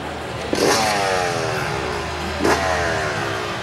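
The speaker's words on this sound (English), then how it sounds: "There's music in the air when the Red.Bull.X.Fighters kickstart their 2-stroke engines." Two-stroke freestyle motocross bikes rev hard at an event in Rome, Italy, two sharp throttle blips rising out of a steady engine drone with falling harmonic sweeps as the revs drop.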